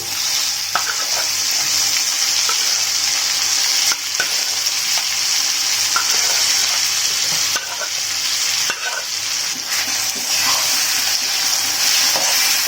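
Boiled prawns stirred and fried in a pan for prawn biryani, giving a steady loud sizzle with scraping spoon strokes at irregular intervals throughout, no voices.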